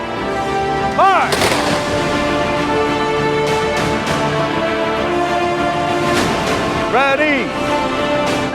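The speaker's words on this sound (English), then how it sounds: "Honor guard, prepare for the 3-round volley." Rifle volleys from an honor guard at a 9/11 fire rescue ceremony in Palm Beach County: sharp gunshot cracks, one near 1.3 s and another near 6.3 s, set against crowd and ambient noise, with a voice calling commands.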